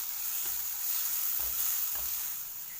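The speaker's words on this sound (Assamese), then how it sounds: "এইখিনি মই ধুনীয়াকৈ ভালদৰে ভাজি লওঁ" Kashmiri red chili and spices frying in a pan, a steady close sizzle and hiss with a couple of soft stirring scrapes, and no talking.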